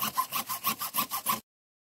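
Eight quick, even back-and-forth saw strokes rasp through 2-inch PVC pipe, cutting teeth into its end, close up, then stop abruptly into silence.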